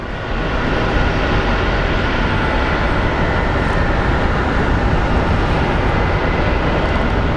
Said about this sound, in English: So this is a plane, it's an A321 coming from Los Angeles